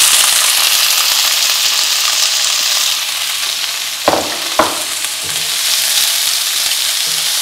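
Bell peppers frying in hot oil with garlic give a steady, close, full sizzle throughout, broken by two brief clatters of stirring near the middle, with no talking.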